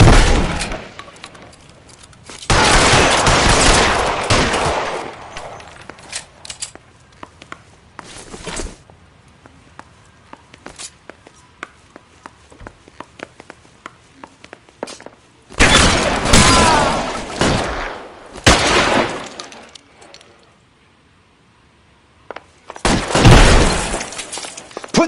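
A shootout in the L.A. Noire video game erupts in loud bursts of gunfire and impacts in several separate clusters, with quieter stretches between volleys and a near-silent gap before the final burst.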